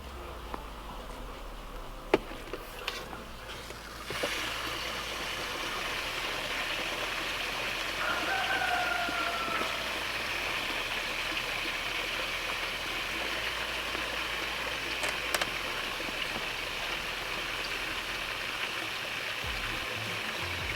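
Water runs steadily into a strawberry planting container through a hole, a soft, continuous trickling wash that stays quiet and even throughout, with a couple of faint clicks and no voices.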